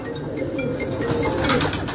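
Lal pari breeder pigeons coo on a rooftop loft, soft low rolling calls under a constant noisy background, with no voices.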